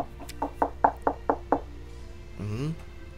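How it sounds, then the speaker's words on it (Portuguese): Knocking on a door in the Minecraft video game: a quick series of about six evenly spaced wooden knocks, fairly close, followed by a short sliding tonal sound. "Batendo na porta mesmo?"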